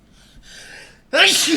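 A single sharp sneeze bursts out loud and close at the end, preceded by a soft intake of breath, in an indoor setting.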